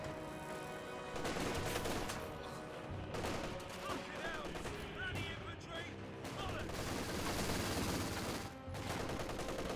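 A Vickers machine gun fires amid a continuous, dense battle din in the World War II strategy game Company of Heroes, with sustained overlapping shots and explosions and a voice talking underneath.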